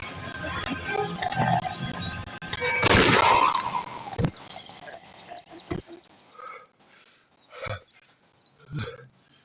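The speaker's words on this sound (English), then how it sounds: "There's been a shooting!" A single loud gunshot cracks out amid a tense scene, followed by scattered thuds and shuffling noises as the commotion settles.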